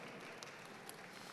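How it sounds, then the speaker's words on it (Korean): An audience at a lecture at a personal-finance expo gives a round of applause, a steady, fairly distant wash of clapping that carries on evenly through the whole moment without any voices over it. "박수 한번 또 부탁드릴게요"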